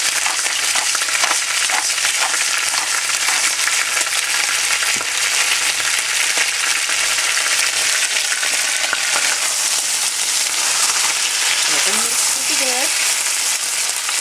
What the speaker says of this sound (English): look at the onions, it's all caramelized